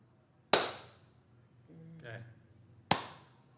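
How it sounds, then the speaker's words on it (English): Two sharp, loud hand claps about two seconds apart in a quiet room, with a brief burst of talk between them. "I'm going to clap"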